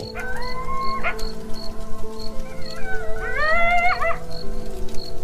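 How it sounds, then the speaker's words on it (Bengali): A jackal howls nearby on a rural night, giving wavering, rising and falling wails in two drawn-out bursts. Faint cricket chirps continue steadily behind it. "কাছেই কোথাও শিয়াল ডেকে উঠল।"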